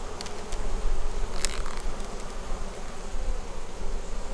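Honey bees buzz continuously at an open beehive, a dense, close drone with a few individual bees passing louder near the listener.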